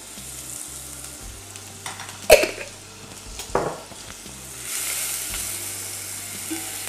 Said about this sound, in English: Into the pot. I got here some minced garlic as well.